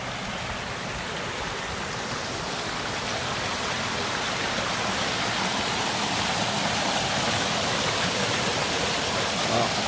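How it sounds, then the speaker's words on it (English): Water dripping and trickling down from the shallow edge of a pond, a steady, dense, hissing wash, close and continuous without pauses. "the water of the pond there where it gets shallow before it drips down"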